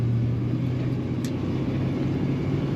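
A 1975 Ford Torino Elite cruises along with a steady, loud low engine drone and road rumble filling the interior, unbroken throughout with no talk.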